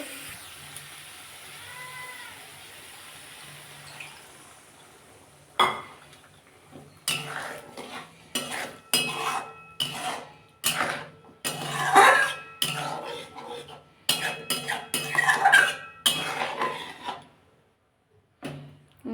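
Dishes and a bowl clatter and scrape as they are rinsed in a kitchen, with water added to a simmering fish curry with spinach; irregular knocks and rubs of metal and crockery come in bursts, fairly close.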